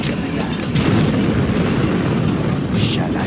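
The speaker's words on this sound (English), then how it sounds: "Launching nuclear missile." Nuclear missile launch in the Command & Conquer Generals Zero Hour strategy game, heard as a loud, sustained roaring rumble with a burst of rising noise near the start and a hissing swell toward the end.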